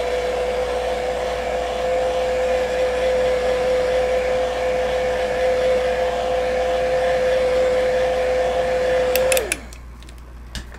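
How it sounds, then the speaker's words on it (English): A hair dryer drying painted fabric blows with a steady, loud whine for about nine seconds, then switches off and winds down, leaving a few faint clicks. "I'm going to take my handy dandy dryer."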